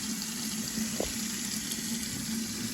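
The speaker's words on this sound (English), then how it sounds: "run some more water," Water runs steadily into a kitchen sink fitted with a garbage disposal, a constant close hiss and rush with a low hum beneath it and a single brief knock partway through.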